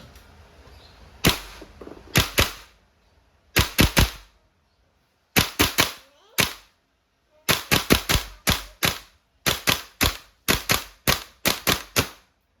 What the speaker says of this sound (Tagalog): Okay, semi-auto. Firing.